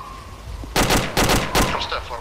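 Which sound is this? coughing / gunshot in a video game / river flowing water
gunshot in a video game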